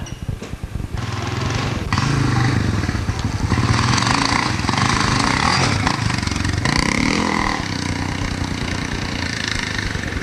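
A motorcycle engine revs hard and continuous at a 1990 hare scramble race at Hollister Hills, loud and close throughout with shifting pitch as the throttle changes.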